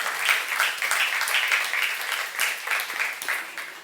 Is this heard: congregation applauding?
yes